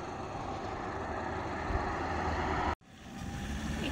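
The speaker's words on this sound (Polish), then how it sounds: "Jedzie tam samochód." A car drives past on a road in Spain, a steady engine and tyre rumble that holds loud and close for several seconds, cuts out abruptly, then rises again as traffic continues.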